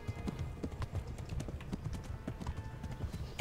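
Horse hooves gallop in a video game, a rapid, steady clip-clop rhythm running throughout, close and fairly loud with no talk over it.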